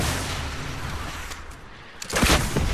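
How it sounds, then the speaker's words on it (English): Rockets fire in a Fortnite match, a muffled rumbling stretch followed by a sharp loud burst of blasts near the end, close and alone without talk. "Shoot the rockets."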